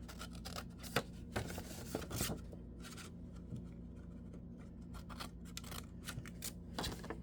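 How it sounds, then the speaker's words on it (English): Scissors cutting a small triangle out of paper while crafting an envelope, a run of quiet, close snips and paper rustles over a low background hum. "Cut that little triangle out."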